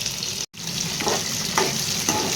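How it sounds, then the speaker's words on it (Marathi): Onion frying in a mustard seed and cumin tempering, a loud, dense continuous sizzle with a brief cut near the start and a few stirring scrapes. "मोहरी आणि जिऱ्याची फोडणी आणि त्यावर परतलेला कांदा"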